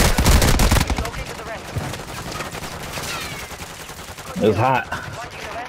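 Gunfire in Call of Duty: Modern Warfare II, a dense opening burst of rapid automatic shots followed by scattered, more distant fire, with players talking over it.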